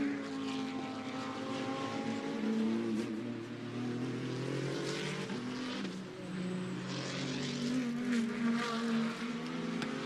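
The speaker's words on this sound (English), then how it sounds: "The race leaders have just gone across the line." GT2 race cars roar past at Hockenheim during a GT2 Europe race, a continuous layered engine drone with shifting pitch from several cars running close together, heard from a distance.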